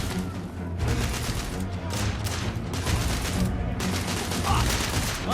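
Sustained, heavy gunfire from the Victorian-era shooter The Order: 1886, with dense overlapping shots and booming bursts forming a continuous loud barrage throughout.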